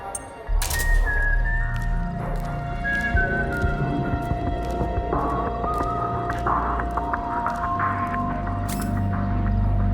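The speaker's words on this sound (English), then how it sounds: "Do you hear whistling?" Stealth ambience from Metal Gear Solid 4 with a faint, wavering whistled tone drifting in and out over a busy, rustling background of game effects and low rumble.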